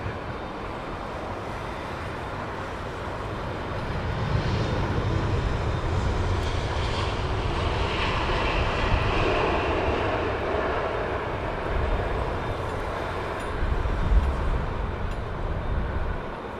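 At London Heathrow Airport, a passenger airliner's jet engines roar steadily as it lands, a broad loud rumble that swells in the middle and stays heavy throughout, with no voices.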